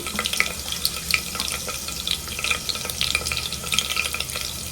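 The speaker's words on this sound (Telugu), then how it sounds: "ఆయిల్ వేడైంది పొడవుగా కట్ చేసి పెట్టుకుని ఒక నాలుగైదు పచ్చిమిర్చి వేసుకోవాలి" Four or five long-cut green chillies crackle and sizzle in about four tablespoons of hot oil for a mutton gravy, a loud, busy spatter with frequent sharp pops and stirring scrapes close by.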